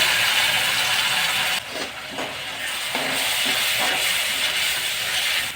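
Tomato-coconut gravy hits fried onions in a hot pan for chana masala, giving a loud, steady sizzling hiss that dips briefly and then keeps crackling close by.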